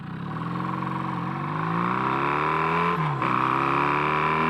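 A Kawasaki KZ440 motorcycle running on a single carburetor hums steadily at close range and loud, with its pitch rising gradually as the revs climb and a brief dip near the end.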